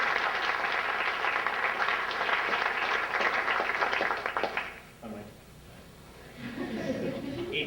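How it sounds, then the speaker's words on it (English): A graduation and awards ceremony audience applauds the staff with full, steady clapping that fades out after a few seconds, leaving quieter room sound and a brief murmur. "So a nice round of applause for that."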